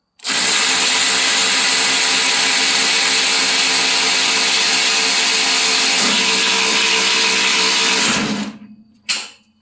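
Two 12-volt cordless 3/8-inch ratchets, a Milwaukee M12 and a DeWalt, run together with a loud, steady, close motor whir for about eight seconds, then wind down, followed by one short final burst.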